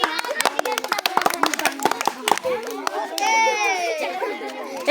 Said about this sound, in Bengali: তালি দাও, তালি দাও।